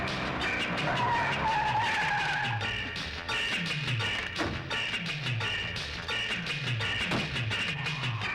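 A car drives off hard, tires skidding and squealing in repeated sweeping bursts over a loud engine roar, close and sustained, with no talk.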